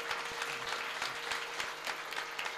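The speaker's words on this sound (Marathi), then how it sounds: "जोरात टाळ्या वाजवा त्यांच्या" Audience at a devotional kirtan performance claps in steady, dense applause, a continuous crowd patter with distinct hand claps, fairly even in loudness throughout.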